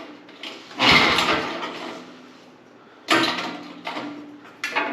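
Three rough, rasping pulls on the recoil starter of a 45-year-old tiller engine, with the choke on, sound close by. Each pull is a short burst with a quieter pause between, and the engine never catches.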